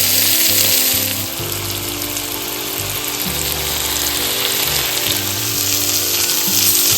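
Tiger prawns sizzling on a grill, Kerala style, a loud continuous hiss and crackle close by, steady throughout with no talking.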